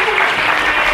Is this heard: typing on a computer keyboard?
no